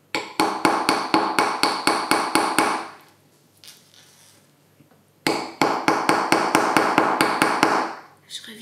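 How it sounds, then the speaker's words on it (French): A hammer strikes a chisel in two bursts of rapid, evenly spaced metallic taps, close and fairly loud, separated by a quieter pause. "on vise bien le burin hein, pour taper avec le marteau"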